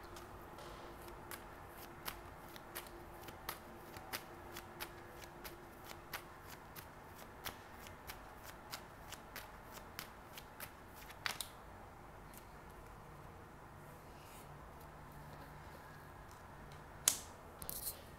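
Tarot cards being shuffled, a steady run of crisp riffling snaps and flicks repeating at a regular pace, close and alone in a quiet room, with a few sharper clacks near the end.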